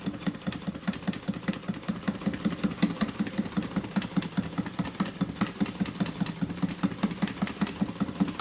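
A sewing machine stitches the layers of a rolled fabric tool bag, a steady, rapid run of even needle strokes that repeats throughout at close range, with no one talking.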